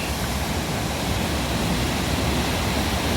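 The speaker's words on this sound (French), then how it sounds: "Voilà la cascade de Falls Creek." Waterfall at Falls Creek in New Zealand, a steady, loud, broadband rush of falling water that fills the whole clip without a break.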